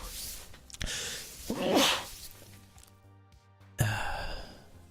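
A single sneeze bursts out near the middle of a quiet snooker match, loud and close against a hushed room, with breathy sounds around it and a sharp noise later.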